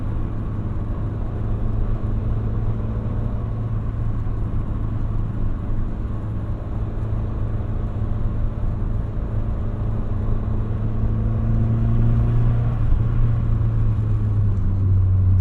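A 1990 Nissan Pulsar GTIR hums steadily from inside the cabin while driving on back roads, and its engine note swells briefly with a throttle blip near the end.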